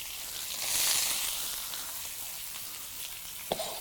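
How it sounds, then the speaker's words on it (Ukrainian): Onions sautéing in oil in a pot over an open campfire, a soft steady sizzle that swells early then settles, with a brief sharp clink near the end. "Припускаємо цибулю."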